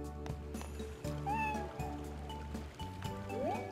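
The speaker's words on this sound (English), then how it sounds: "Wait, that's a cat." A cat meows several times in the farming video game Harvest Moon: Animal Parade, the short rising cries standing out over steady looping game music.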